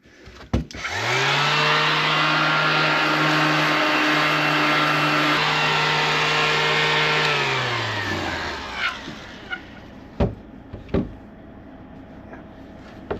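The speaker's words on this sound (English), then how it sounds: "I'm going to start this sanding with fairly coarse paper" A power sander fitted with coarse paper whirs steadily for several seconds at an even pitch while sanding old varnish off wood, then winds down, followed by a few scattered knocks and scrapes.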